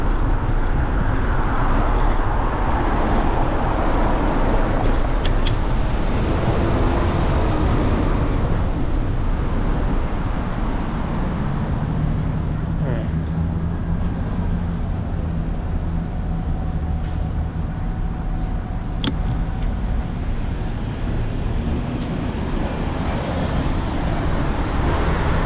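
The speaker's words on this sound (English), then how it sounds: "Now I'm just straight out in traffic." Montreal city traffic rumbles around a cyclist, a constant dense roadway noise with passing vehicles, buses and occasional higher tones, loud and continuous throughout.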